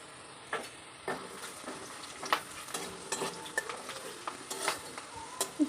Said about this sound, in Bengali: কালারের জন্য সামান্য তেলের মধ্যে আমি দিয়ে দিলাম চিনি।